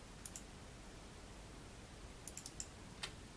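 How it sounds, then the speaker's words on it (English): Light computer clicks as a mouse is clicked while the Shift key is held down, a few quick soft taps in two brief clusters over a faint steady hiss, close and quiet. "holding down the Shift key on the keyboard and clicking on another"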